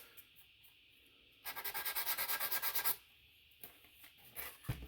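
Spot putty on the underside of a quarter-scale sculpted Thor figure is hand-sanded in about a dozen quick, even back-and-forth strokes up close, followed by a few lighter scrapes and taps.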